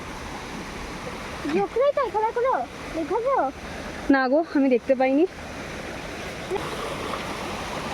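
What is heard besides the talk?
small waterfall stream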